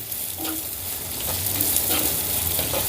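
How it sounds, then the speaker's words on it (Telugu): Ginger garlic paste fries in a pan for an aloo pepper fry, giving a steady, fairly soft sizzle that swells slightly toward the end, with faint stirring scrapes. "ఈ అల్లం వెల్లుల్లి పేస్ట్ కూడా చక్కగా ఫ్రై అయిందండి"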